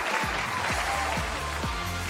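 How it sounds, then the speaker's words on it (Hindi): A studio audience at an Eid special talk show applauds in a steady, dense wash, with a few faint low thumps repeating underneath. "जब अपने लिए बहुत सारी तालियां बजा दें for being such a wonderful audience"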